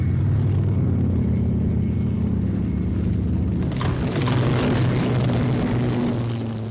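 Hawker Sea Fury fighter plane approaching a carrier deck to land, its engine a loud, continuous droning rumble that swells slightly midway and holds steady throughout.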